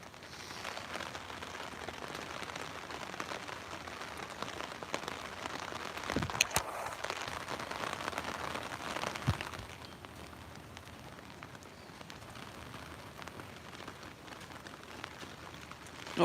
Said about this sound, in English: It's really pouring outside right now,